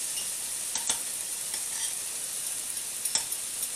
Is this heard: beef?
yes